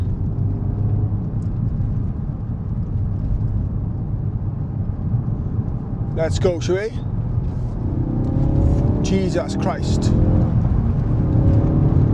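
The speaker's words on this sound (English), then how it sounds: "I'll do a third gear mid-range pull and share with you guys." A Ford Focus RS Mk3 pulls hard in third gear from mid-range, a loud steady in-cabin engine roar building under boost, while the driver speaks briefly over it.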